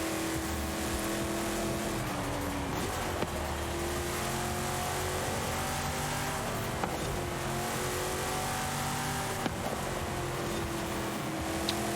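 A Renault Clio V6 style rear-mounted engine in Forza Horizon drones and revs steadily throughout, loud and continuous, with pitch rising and dipping as it shifts, no speech.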